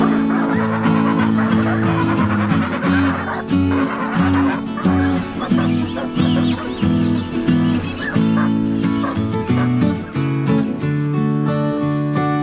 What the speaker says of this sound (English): we'll show you the release of the geese